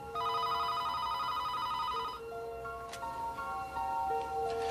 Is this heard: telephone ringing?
yes